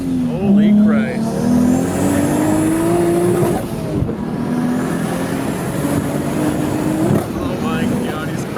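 A Lexus SC300 on drag radials accelerates hard, its engine roaring loud and close with rising revs and a gear change, while people shout excitedly over it.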